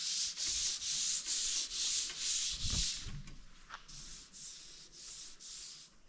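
Primer being sanded on a fiberglass 1932 roadster body, steady back-and-forth rasping strokes in an even rhythm, close and loud, with a short pause and a bump midway and no talk.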